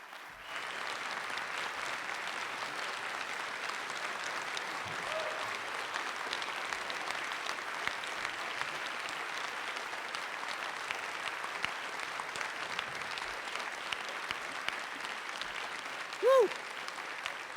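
At the 2016 ACM keynote address, an audience applauds in a long, steady wash of clapping that holds even for nearly twenty seconds, with a brief whoop near the end.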